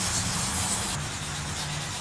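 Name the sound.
sanding a paint run with 800 grit sandpaper on a block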